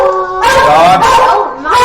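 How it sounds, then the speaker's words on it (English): Dogs howl in long, loud, wavering tones, several voices overlapping in a sustained chorus close by. "Dogs!"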